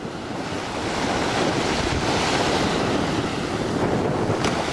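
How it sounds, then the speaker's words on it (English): Ocean surf breaking at the water's edge on a Long Beach shoreline, a steady loud wash of waves mixed with heavy wind buffeting the microphone, with no voices. "we are at the water's edge now"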